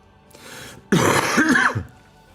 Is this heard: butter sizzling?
no